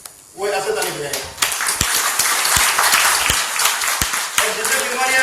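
An audience at a motivational talk breaks into loud, dense, sustained hand clapping after a man's brief spoken instruction, and the clapping carries steadily to the end with a few sharper claps standing out.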